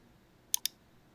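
Two quick, crisp computer mouse clicks close together, faint and near, in an otherwise quiet room.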